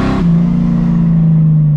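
A Chevette fitted with a V8 roars close and loud, a short burst of acceleration settling into a strong sustained engine drone.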